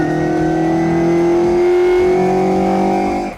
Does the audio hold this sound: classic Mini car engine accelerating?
yes